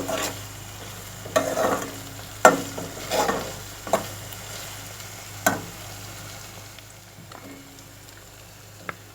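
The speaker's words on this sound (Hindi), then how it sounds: "अब हम इस तरह मसालों को भूनते जाएंगे।" Spices sizzle in hot oil in a pan as they are stir-fried, a low continuous frying hiss broken by several sharp scrapes and clinks of the spoon against the pan, close and clear without talk.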